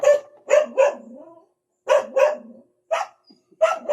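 A dog barks repeatedly at close range, short sharp woofs in quick pairs separated by brief pauses, loud and alone.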